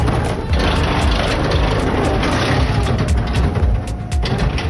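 All-electric garbage truck working its route, the mechanical arm lifting and emptying curbside garbage cans; a steady, loud mechanical rumble with clanks and knocks throughout, no engine roar.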